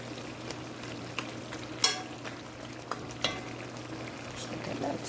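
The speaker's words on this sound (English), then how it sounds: "I'm just going to tip some water and let it steam down" Water is tipped into a hot pan of cabbage, which sizzles and steams with a steady crackling hiss, broken by a few sharp clicks and spatters at close range.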